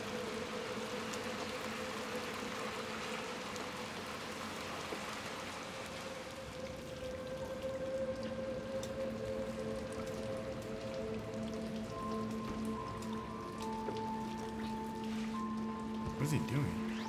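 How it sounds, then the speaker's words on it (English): Rain patters steadily in the video game Little Nightmares 2, a continuous fine hiss beneath game tones and low hums, with someone talking over it. "It is raining, buddy."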